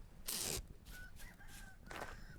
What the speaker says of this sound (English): I hear you. Got a rooster friend.